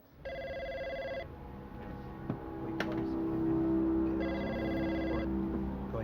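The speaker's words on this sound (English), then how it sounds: "Three days after her son disappeared, Kinney's mother received a second phone call." A telephone rings twice with an electronic trilling bell, each ring about a second long and spaced apart, heard over a low background hum with no talk.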